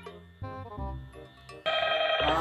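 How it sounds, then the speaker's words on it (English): A telephone ringing for an incoming call during a Minecraft FNAF map session, with a short electronic ringtone melody of stepped tones that grows louder near the end. "Phone call."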